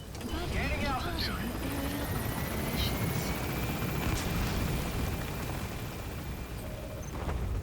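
In Metal Gear Solid V, an extraction helicopter gains altitude, its rotor and engine roar loud and steady throughout, with a voice speaking over it.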